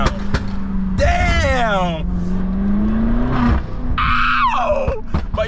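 Loud catback exhaust on a BMW X5M revving and accelerating up close, with sharp rising roars, a droning cruise in between and a second hard pull, while someone briefly speaks over it.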